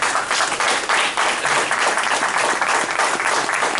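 Audience at a PTA meet-the-candidates event applauds in a dense, steady wash of clapping that fills the room for several seconds.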